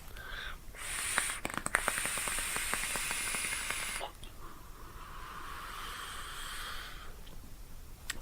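An e-cigarette set to 35 watts with its airflow fully open is drawn on, giving a loud, rushing airy hiss for about three seconds, followed by a second, softer hissing draw.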